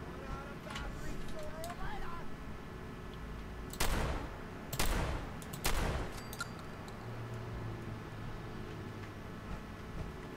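Several bursts of enemy gunfire in Fallout 4 ring out around 4 to 6 seconds, loud against a steady game background with speech mixed in.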